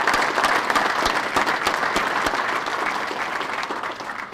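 Sustained audience applause at a spring meeting of a golf association, many hands clapping densely and evenly for over four seconds, loud and close, tapering slightly toward the end with no voices on top.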